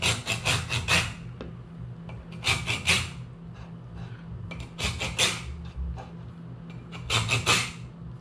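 A hand saw scrapes into an ostrich eggshell under light pressure, producing four short bursts of rasping strokes spaced a couple of seconds apart. The strokes sound close and fairly loud over a low background hum.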